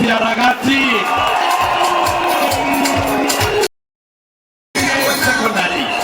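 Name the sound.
crowd applause and cheering at a rally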